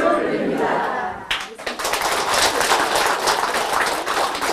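Loud clapping from an audience at a Saturday Buddhist service and dharma talk, starting after a brief spoken bit and then sustained, dense and energetic, with voices shouting over it.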